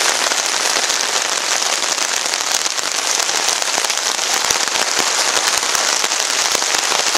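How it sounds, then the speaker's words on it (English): Heavy rain drumming on a tarp over a hammock during a storm, a loud dense continuous patter close overhead with sharper drop impacts throughout and no voices. "Got a good amount of rain."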